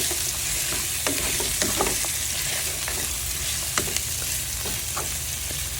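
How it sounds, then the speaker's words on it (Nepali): Chicken gravy with turmeric and salt being stirred in a hot pan, a continuous sizzle with repeated scraping and clinking of the spoon against the pan, close and steady. "अनि यसलाई राम्रोसँग चलाउने।"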